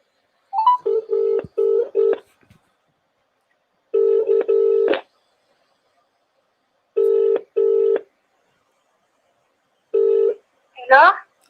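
Phone line being dialed and then ringing: a quick cluster of short dial-tone bursts at the start, followed by evenly spaced ringback tones repeating every few seconds, ending in a short rising electronic chirp.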